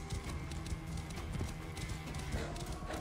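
Horse hooves clip-clopping in Assassin's Creed: Origins, a steady rapid trot of game-rendered hoofbeats running continuously under a dense ambient mix, moderately loud throughout.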